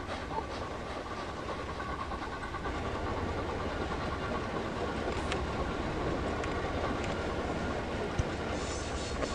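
Trains rolling along railway tracks in the Locomotion simulation game, a steady, fairly loud rumble with faint rhythmic clatter holding constant for the whole stretch, no voices over it.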